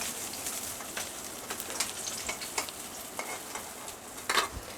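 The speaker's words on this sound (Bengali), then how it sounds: "দেখুন খুব সুন্দর করে আমার মাছগুলো ভাজা হচ্ছে।" Pieces of catla fish fry in plenty of oil in a pan, a soft continuous sizzle with scattered spits and faint scraping, fairly quiet and with no voices.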